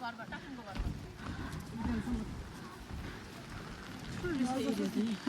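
Heavy rain pours steadily at an animal park, a dense, constant patter close around, while people talk over it throughout.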